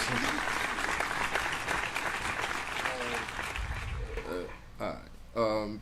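A small group claps and snaps fingers together in a dense, lively patter under chatter, thinning out toward the end as voices come forward and a louder vocal burst closes it.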